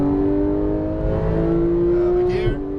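Lamborghini Huracan Performante pulling at full power on a track, a loud sustained engine drone rising steadily in pitch, close and continuous, with a brief shift-like blip near the end.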